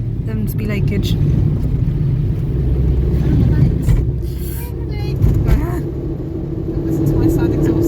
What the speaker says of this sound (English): to my side exhaust that's now going